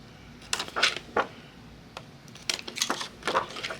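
Scissors cutting small corner squares out of a paper card, a few quiet crisp snips and paper rustles in short clusters close by.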